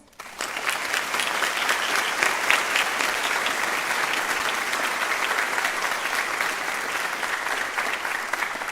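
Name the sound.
applause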